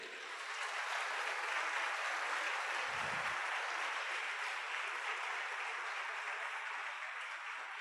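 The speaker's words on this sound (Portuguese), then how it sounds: "Dê uma salva de palmas a ele." A church congregation claps in a long, even wash of applause that holds steady for nearly eight seconds, fairly distant and uniform, with a single soft thump partway through.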